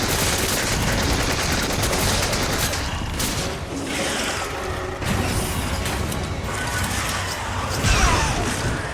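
Dense, continuous gunfire in the Resident Evil 5 video game during co-op play, with shots, crashes and booms layered into a loud, unbroken barrage for several seconds.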